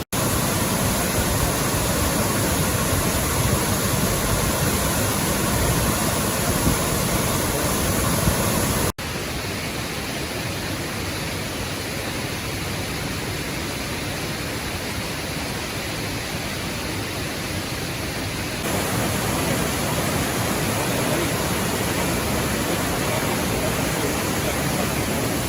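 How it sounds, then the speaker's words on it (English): Waterfall at Dukes Creek Falls near Helen, Georgia, a steady loud broadband roar of falling water that fills the whole clip, holding an even level with no voices. "Even though this is called Duke's Creek Falls"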